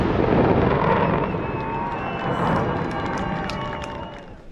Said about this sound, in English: This firework display at a wedding venue just across the river was amazing.